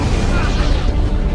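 A methane gas explosion tears through a mine tunnel in a film scene, a continuous loud, dense roar of rumbling blast noise with no letup.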